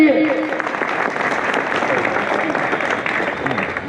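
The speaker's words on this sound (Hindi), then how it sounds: "जोरदार ताली बजना चाहिए" Loud, sustained applause from an audience at a Republic Day celebration, a dense steady wash of clapping filling the whole stretch without a break.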